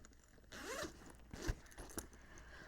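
A recessed zipper on a handbag slides open in a quick rasping pull, followed by a couple of soft clicks and handling noises close by.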